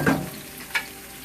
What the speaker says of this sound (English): mix up and stir fry